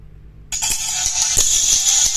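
Music played straight through a bare tweeter with no capacitor, starting suddenly after half a second of quiet: thin, hissy and bright, with faint tapping beats and no real low end, with no voices.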